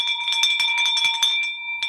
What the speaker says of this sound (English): Let's ring that bell for Dan.